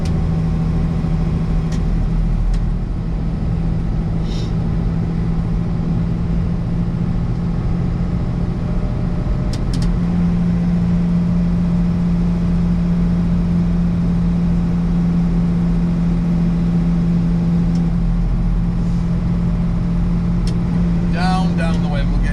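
A road-trip vehicle's engine drones steadily while driving, a loud, constant low hum that runs the whole way through under occasional voices inside the cabin.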